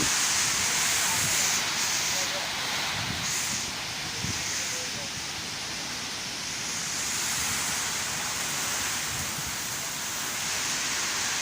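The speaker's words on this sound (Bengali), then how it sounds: "যে বাতাস হচ্ছে এই বাতাসে বৃষ্টির জন্যে ভিডিও করার মতনও কোনো পরিবেশ নেই" A strong windstorm with rain in Harinakundu, Jhenaidah, in mid-morning gives a loud, continuous roar of gusting wind and rain noise that swells and eases slightly over its length.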